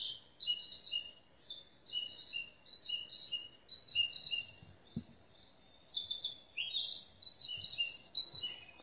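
Quiet, continuous birdsong of repeated high chirps and tweets in a steady rhythm, slightly thin and tinny, played from a small Xiaomi Qualitell sleep-sound speaker.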